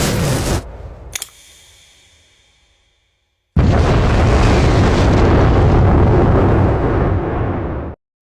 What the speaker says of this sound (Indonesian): bos yang meledakkan senjata Tengunya hingga terjadilah ledakan